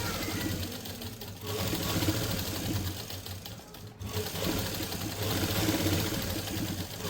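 A sewing machine runs steadily while stitching the seam of a simple suit, a continuous close mechanical whir with a brief pause near the start and a short break around the middle before resuming.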